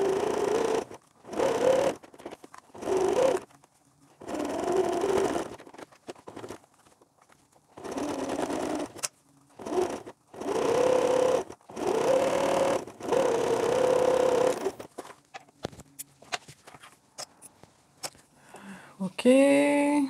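A domestic sewing machine runs a small zigzag stitch along bra elastic, whirring in repeated short bursts with pauses between them, close and fairly quiet.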